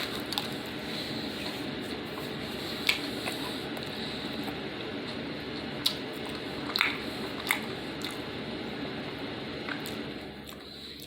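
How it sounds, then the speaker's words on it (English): Close-up mukbang eating of a Domino's sausage pizza, with continuous wet chewing and squishy bites and occasional sharper crunchy clicks, heard alone without talk. "sausage pizza that I'm doing, and it's a MukBang."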